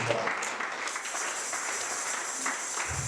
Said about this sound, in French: Est-ce qu'on peut acclamer la parole ici?